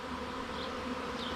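A swarm of honeybees moving into a bee shed, heard as a continuous dense buzzing hum with individual bees droning past up close.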